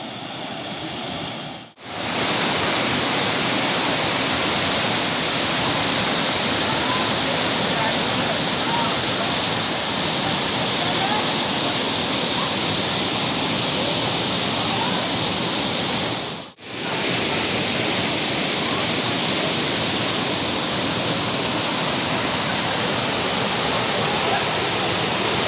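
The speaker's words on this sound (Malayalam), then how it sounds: "ഇത് കാണുന്ന വാട്ടർഫാൾസ്, അതിൻ്റെ താഴേക്ക് വീണ്ടും പതിക്കുന്ന ഒരു ഭാഗമുണ്ട്." Vattayi waterfall produces a loud, dense, unbroken roar of falling water heard up close. It fills the whole stretch apart from two brief dips, and no one speaks.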